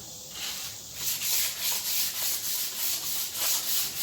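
Light sandpaper strokes of 400 grit rub over a soft cedar walking stick, a steady rhythmic swish repeating about twice a second, close and even with no voices.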